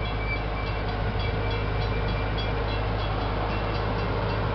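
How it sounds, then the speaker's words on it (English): The Gatorland park train rolls along with a steady, dense mechanical rumble and hum, continuous and close, with no talk over it. "Sure enough, you enjoy a little train ride."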